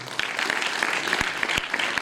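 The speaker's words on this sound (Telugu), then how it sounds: "చప్పట్లు కొడదాం." A meeting audience claps in a dense, continuous patter at moderate loudness, with a few sharper individual claps standing out over the short stretch.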